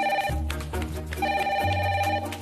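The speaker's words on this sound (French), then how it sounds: "Téléphone rouge." A red telephone rings inside the Secret Story reality-show house, its bright repeated ringing tone sounding steadily for a couple of seconds with a low, music-like bed underneath and no talking.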